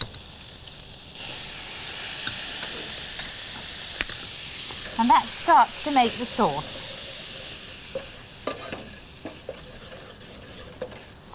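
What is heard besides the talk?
frying meat in a pan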